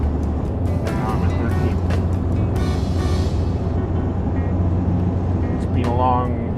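A manual truck's engine drones steadily and loudly close by while gears are shifted, with someone talking over the constant rumble.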